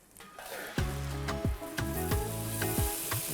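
Paneer and masala sizzle loudly in a hot pan, the frying crackle joined by several sharp clanks of a spatula stirring against the metal.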